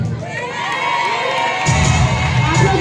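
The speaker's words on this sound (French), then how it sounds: "Applaudissez s'il vous plaît." A school audience cheers loudly after a student's poem, many young voices shouting and whooping together, the crowd noise growing fuller and heavier partway through.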